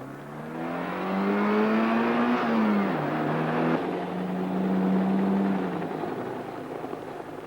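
A BMW and a Porsche accelerate together in a drag race, a sustained engine roar climbing through gear changes with a shifting pitch over about six seconds, heard from a distance and fading at the end.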